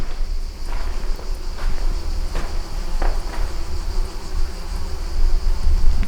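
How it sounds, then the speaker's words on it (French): Steady insect buzzing from a wasp nest hums continuously close by inside a chapel of an abandoned château, with a few soft taps and footsteps in the background. "On entend un nid de guêpe."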